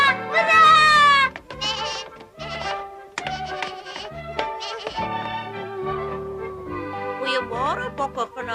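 Goats bleat loudly and repeatedly in a wavering, nasal chorus, with one strong bleat at the start followed by several shorter calls close by.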